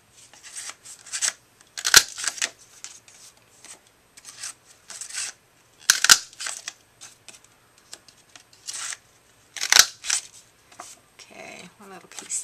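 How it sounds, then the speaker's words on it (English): A Martha Stewart paper punch clips the corners of a 3 1/4 by 5 inch birthday card piece, with sharp crisp snaps in spaced clusters, each with a faint papery rustle between them. "And this is going to be using the Martha Stewart punch around the page."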